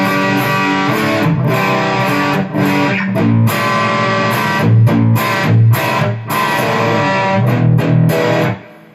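Electric guitar through a Boss Katana 100W amp head with reverb on, loud distorted chords and riffs in choppy rhythmic bursts with short gaps, ringing out and fading at the end.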